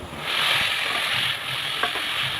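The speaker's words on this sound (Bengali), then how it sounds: "জল শুকিয়ে আসলেই ওপর থেকে পাঁপড়গুলো দিয়ে ভালো করে নেড়ে ছেড়ে নেবেন" Papad pieces stirred into spiced potato masala in a pan as the water cooks off, a broad steady sizzle with faint scraping of the spoon, close and continuous, no voices.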